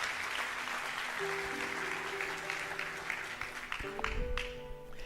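A church congregation applauds the Lord with steady, dense clapping, while sustained keyboard tones rise underneath partway through.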